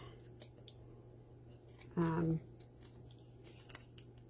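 A single quick snip of scissors cutting paper trees for a handmade Christmas card, close and crisp, over a quiet room.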